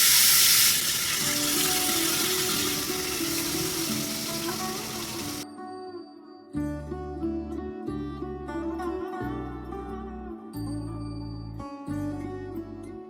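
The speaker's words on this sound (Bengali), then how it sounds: "এখন আমি এখানে চিকেনগুলোকে একটু হালকা করে ভেজে নেব" Chicken pieces frying in hot oil with chilli, cinnamon and whole garam masala, a dense, loud sizzle for several seconds before cutting away to a tonal musical passage.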